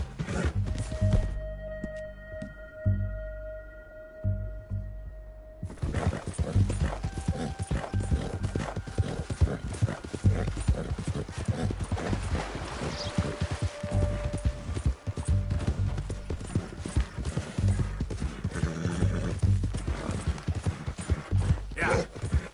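A horse's hooves clip-clop and gallop in a fast, even rhythm in Red Dead Redemption 2, loud and close, after a short quieter stretch at the start.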